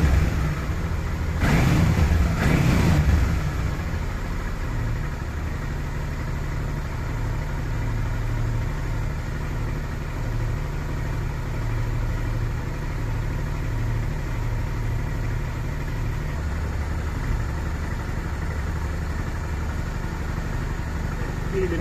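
A Honda XL 650 Transalp idles steadily during carburetor synchronization, with a brief throttle blip near the start before settling back to an even, close engine idle.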